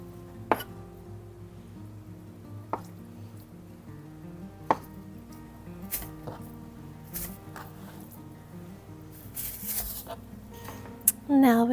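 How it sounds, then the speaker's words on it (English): A knife cuts pressed tofu, used as vegan paneer, into large blocks: a few sparse, sharp chops on a board with gaps between them and a low hum behind. "We'll cut it into large blocks"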